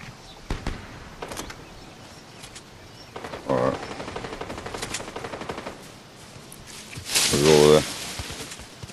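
Automatic gunfire in the video game Fortnite, with a few sharp shots early and two louder bursts in the middle and near the end, all under ongoing talk.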